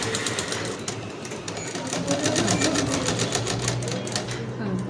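An electric sewing machine runs continuously and fast, stitching a collar placket on a chudidar or panjabi, with a steady rapid needle clatter close by and a voice now and then over it.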